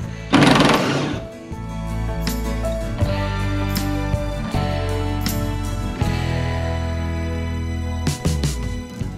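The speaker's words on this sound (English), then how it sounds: "we're getting ready to impact off each side of the straps" An impact wrench removes the fuel tank strap bolts on a 1970 Camaro, firing in loud, close, rattling bursts with brief pauses and a sharp hammering texture throughout.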